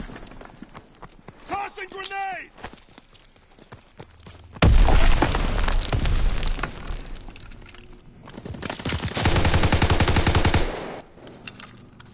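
A grenade bursts into a loud, sustained roar of blast and rapid gunfire in Call of Duty WW2, with heavy firing continuing for several seconds after a stretch of talking and quieter shots.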